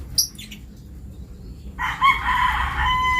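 A rooster, its tail still regrowing after a moult, crows once near the end, loud and close, after a brief flutter and a few faint chirps at the start.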